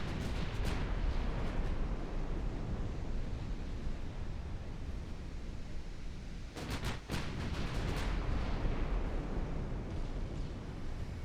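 Naval gunfire in the warship battle game Ultimate Admiral Dreadnoughts, a sustained deep rumble of distant cannon salvos with a cluster of sharper reports partway through, over a constant roar like sea and wind.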